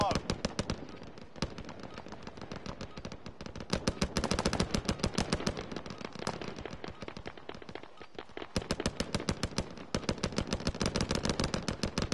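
Fast bursts of close automatic gunfire in a shooter game, loud and rhythmic, with short pauses between volleys and voices shouting over the shooting.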